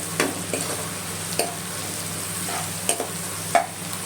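Onions salted and softening in a pan of oil, frying with a steady low sizzle broken by a handful of sharp stir and spatula scrapes.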